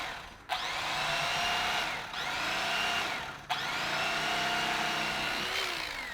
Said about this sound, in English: We have an electric knife here, and we've read that this is the best way to cut a foam mattress.